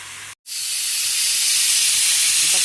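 Steam hisses loudly from a pressure cooker cooking mung beans on a kitchen stove. There is a brief cut near the start, then the blast resumes and holds steady, close and continuous.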